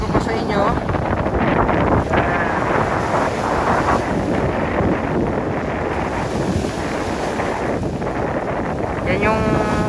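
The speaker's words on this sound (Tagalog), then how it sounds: "medyo naglalakihan yung alon ngayon dito" Big ocean waves pound a seawall during approaching stormy weather, a continuous loud rushing surge with heavy wind buffeting the microphone throughout.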